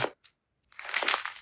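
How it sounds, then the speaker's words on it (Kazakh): Crisp crunching of an ASMR object, two short brief crackles followed by a denser, sustained burst of crinkly crunching, close and fairly quiet. "Қытырлап отыр, әдемі."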